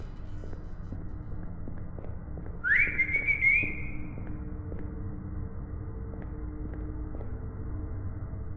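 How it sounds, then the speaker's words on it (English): A single rising whistle for a dog rings out clearly for about a second and a half over a low droning ambience in a horror video game, with faint scattered ticks beneath. "You whistle to hopefully have your dog respond to quickly find him to leave."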